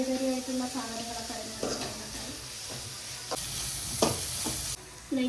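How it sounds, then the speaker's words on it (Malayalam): Onions sautéing in a pan for Chennai vadacurry, a soft continuous sizzle and hiss with occasional scrapes and stirring knocks, while voices talk over it at moderate distance. "ഉള്ളിയിട്ട് നല്ലപോലെ ഒന്ന് വഴറ്റിയെടുക്കാം"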